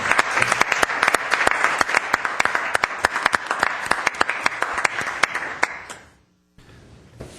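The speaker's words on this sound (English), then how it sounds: "Could we have a round of applause for those folks?" An audience at a city parks, recreation and community services commission meeting claps steadily for about six seconds, then the applause fades out, leaving quiet room tone.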